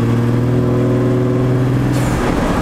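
A 450HP 12-valve Cummins truck with a five-speed transmission accelerates hard. The deep engine drone holds steady and loud from inside the cab, then rises in pitch toward the end.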